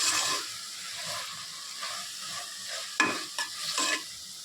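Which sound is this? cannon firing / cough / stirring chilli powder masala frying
stirring chilli powder masala frying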